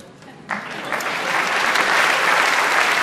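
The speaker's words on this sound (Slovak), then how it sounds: "Ďakujeme za potlesk." An award show audience breaks into applause for presenters arriving on stage. The clapping rises suddenly and swells into loud, steady clapping that fills the hall.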